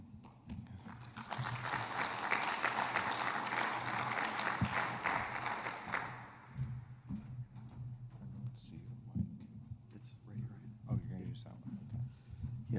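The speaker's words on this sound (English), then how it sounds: "it's risky to clap before I've said anything" An audience at a conference session claps in a dense, sustained burst of applause for about six seconds, then it fades out into scattered room noise and murmur.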